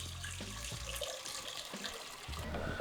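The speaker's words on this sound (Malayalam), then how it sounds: "നമ്മൾ ആ സോസ് പാനിലേക്ക് നമ്മൾ അല്പം വെള്ളം ഒഴിക്കുന്നു" Water runs into a saucepan in a home kitchen while chocolate is being prepared, a soft continuous splashing and trickling stream heard close and alone at low volume.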